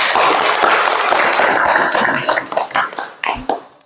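Classmates clapping together in a school physical education lesson, a loud, dense burst of applause that breaks into scattered individual claps near the end.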